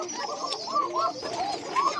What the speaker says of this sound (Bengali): দেখতে পাচ্ছেন আমার খামারে সকল ধরনের কবুতরই আছে